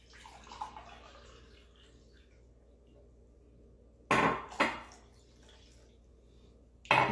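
Cup of water poured out in a kitchen while cooking, a soft splashing burst and a quick second splash after a quiet stretch of low room hum, with another splash starting at the end.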